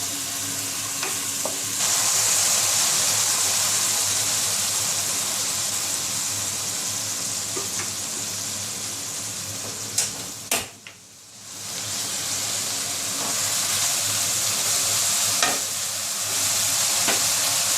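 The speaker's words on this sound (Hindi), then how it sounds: "प्याज को 1 से 2 मिनट के लिए आप अच्छे से भूनें।" Onions sauté in a pan with a loud, steady sizzle and hiss that runs throughout. It dips briefly midway and returns, with occasional scrapes of stirring.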